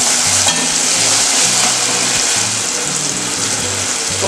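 Tomatoes and onions frying in a pan for egg masala curry, a loud continuous sizzle with rhythmic low scraping thumps of stirring running through it, no voices.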